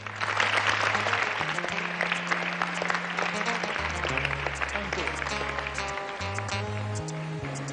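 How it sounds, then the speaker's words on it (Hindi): Loud applause from a studio audience welcoming a guest on a Hindi television show, continuous dense clapping over low sustained music tones. "उनका स्वागत करते हैं जोरदार तालियों के साथ."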